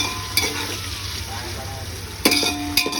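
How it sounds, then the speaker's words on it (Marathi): Chopped onion and vegetables sizzle in hot oil in a pan, a steady close fry broken by a few sharp stirring scrapes of a spatula against the metal. "आता कांदा फ्राय करून घ्यायचा"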